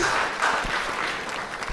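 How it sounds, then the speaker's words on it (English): A stand-up comedy club audience claps steadily for nearly two seconds, a dense, close wash of applause with no talking over it. "Yeah, we can clap on that."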